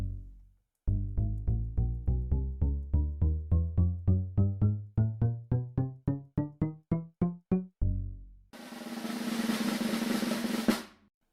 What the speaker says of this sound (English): This is what the string bass sounds like.